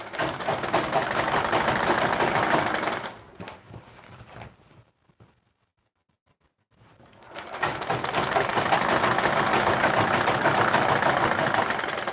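A sewing machine runs along the side seam of a six-panel skirt, with a steady close-up motor hum that drops away to near silence midway, then resumes at full speed.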